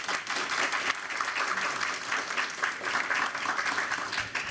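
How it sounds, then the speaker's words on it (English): Steady applause from the audience at a school district board of trustees meeting, a dense, sustained clapping that fills the room without a break. "So if we can give that group a round of applause."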